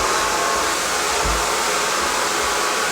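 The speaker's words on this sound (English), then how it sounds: "Blow drying." A hair dryer blows steadily while drying hair at home, a loud, continuous whooshing roar close by with faint bumps of movement underneath.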